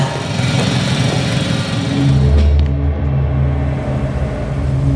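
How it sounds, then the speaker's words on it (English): A drill running in the video game The Invincible gives a loud, continuous mechanical drone with a heavy low rumble that swells briefly near the middle, with no voices. "It's a drill."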